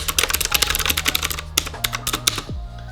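Rapid, crisp clacking of computer keyboard keys close up, a dense burst of typing that thins to a few scattered keystrokes.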